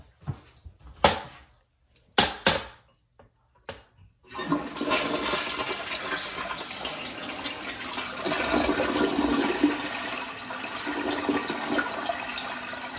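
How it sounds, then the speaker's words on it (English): Several sharp knocks and clicks, then a Mansfield toilet at a roadside lookout restroom begins a long, loud rushing flush that roars steadily for many seconds, close and echoing in a small room. "Awful long flush."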